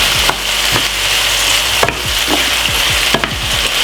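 Saltfish and okra sizzle steadily in a pan for a Jamaican dumpling meal, broken by several sharp scraping knocks as a utensil stirs them, close up and without talk.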